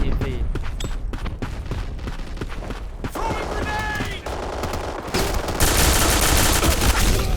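Rapid automatic gunfire and single shots from the online shooter game Black Squad, loud and dense with overlapping bursts throughout, while players chat over the shooting.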